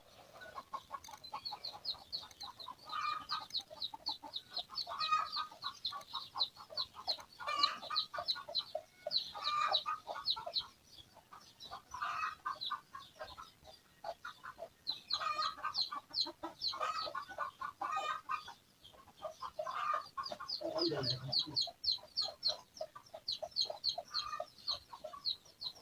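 A hen and her small chicks cluck and cheep in a farmyard where pigeons are also kept, the soft, rapid clucks and peeps running on in uneven bursts at a moderate distance, with no talking.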